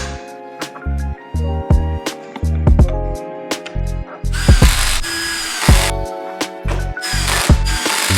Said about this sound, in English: and screw in those bolts.